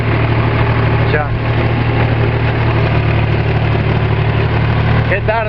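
A tractor engine idles close by with a steady, rumbling drone that never lets up, while people talk over the running motor.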